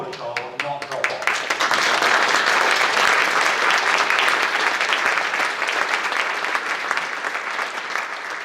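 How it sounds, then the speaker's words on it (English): An audience at an intranet and digital workplace awards ceremony claps in a dense, sustained burst of applause, loud and even for several seconds before tapering slightly, with brief speech at the very start. "Another round of applause."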